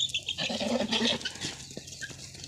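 Goats bleat outdoors on a farm during the rainy season, with a few overlapping nasal calls at close to moderate distance against a noisy background.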